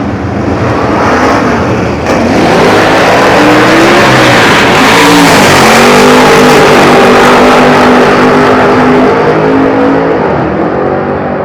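A 1971 Mercury Cougar and a Plymouth Cuda, the Cuda a four-speed, launch down a drag strip, engines roaring loud and sustained with revs climbing, dipping at shifts and climbing again across the whole stretch, no voices.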